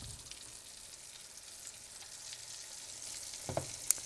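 Steak pieces fry in an old inherited skillet, giving a steady, even sizzle that holds at moderate loudness, with a couple of brief sharp pops and a low knock near the end; no voices.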